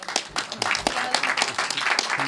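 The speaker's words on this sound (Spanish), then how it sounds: "Un aplauso aquí para el..." A small conference audience claps briskly, with a dense, close patter of hand claps continuing steadily for a couple of seconds.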